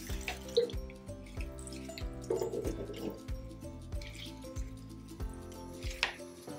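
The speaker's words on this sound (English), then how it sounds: "until I hear that the water is running through, just to make sure that all the potting mix and sap tract is evenly moist" Water poured onto a potted plant runs and drips through the potting mix, producing steady trickling and irregular dripping close by, with no talk.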